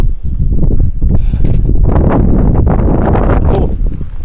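Strong wind buffets the microphone outdoors beside a parked van on a US road trip, a loud continuous rumbling roar with gusty surges.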